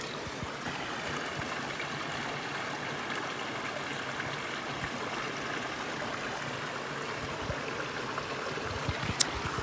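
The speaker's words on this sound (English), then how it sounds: "I'm going to enjoy the rest of this walk with these babbling brooks with no fish in them" Babbling brook flowing steadily along a countryside walk, a continuous close rush and trickle of water over stones that stays even throughout with no talking.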